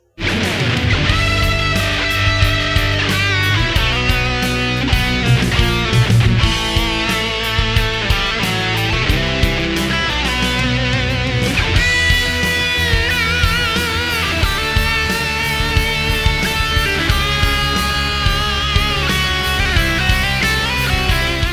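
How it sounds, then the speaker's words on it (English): Sustained, heavily processed electric guitar lead through a guitar processor, playing a melodic line with harmonic-rich, overdriven tone, loud and continuous throughout. "now let's look at our lead tone, which sounds like this"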